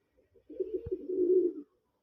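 One low, throaty pigeon coo rolls out for about a second, close and clear, with quiet surroundings and no voices.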